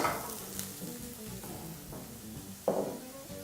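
Chopped white onions frying in a pan, a close steady sizzle with a few light spatula taps and one sharper scrape near the end, heard alone without talking.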